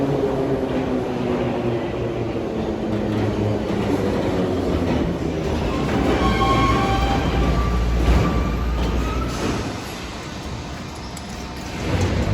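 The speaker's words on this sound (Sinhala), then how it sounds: "මේ පරණ මෙට්‍රෝ සද්දෙත් වැඩි කනක් ඇහලා යන්න හම්බෙන්නේ නැහැ මේ වගේ" An old Russian metro train runs through the underground, a loud, continuous rumble with rattling carriages and rising whining tones mid-ride, close and steady throughout.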